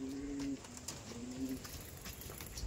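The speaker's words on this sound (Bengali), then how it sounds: "এই দেখো পায়রা দেখো" Giribaj pigeons cooing, low rolling coos heard in a couple of short bursts, faint against a quiet outdoor background.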